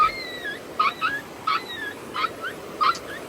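Dogs whimper in a string of five or six short, high whines and yips at fairly even intervals, close and clear above faint background noise.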